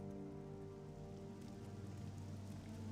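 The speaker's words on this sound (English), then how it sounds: "Starting to rain." Rain falls in the video game Morrowind as a steady, even hiss of drops over a low tonal background hum, continuous and fairly quiet, with no voices.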